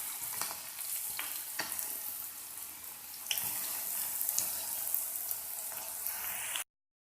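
Ragi onion pakoda deep fries in hot oil on medium heat, giving a steady loud bubbling sizzle with occasional sharper crackles and stirring clicks, cutting off abruptly near the end.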